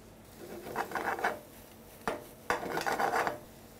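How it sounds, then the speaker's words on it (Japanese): Sautéed potatoes tossed with butter in a pan, close scraping and rattling of metal in two longer bursts separated by a couple of sharp clanks, with no talk. "もう少しバターを落として先ほどのじゃがいもを絡めていきます"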